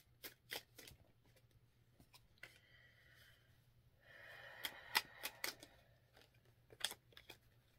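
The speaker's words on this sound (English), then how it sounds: "So let me pull two more cards here." Tarot cards shuffled and pulled from a deck during a reading, with a run of crisp riffling bursts, soft sliding and a few sharp card snaps, close and quiet with no talk.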